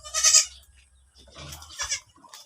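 A goat in a farm pen in Oriental Mindoro gives a few short nasal bleats, close and fairly loud, with quiet gaps between the calls and no speech.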